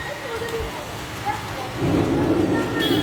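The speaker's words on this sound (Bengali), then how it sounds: "খুব বাজ পড়ছে" Rain patters steadily, then a deep, loud rumble of thunder rolls in and keeps growling until the end.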